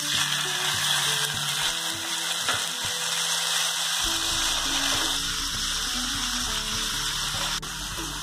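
Chopped vegetables and tomatoes for Mumbai-style pav bhaji frying in a pan, a continuous sizzle under a clanking, ratcheting mechanical rattle that changes partway through, close and steady, no voices.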